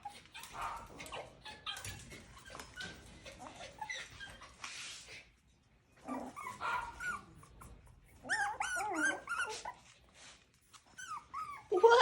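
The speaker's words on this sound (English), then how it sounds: "I'm going to start putting the dogs to bed." Coton de Tulear puppies whimper, yip and bark in bursts over several seconds, with high whiny cries growing louder toward the end and brief pauses between; a person talks faintly in places.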